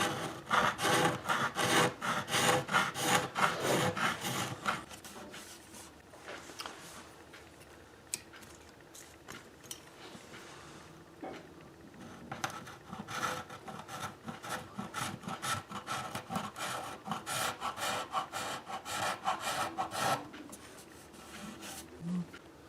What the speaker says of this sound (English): I can see the edge of where I need to stop scraping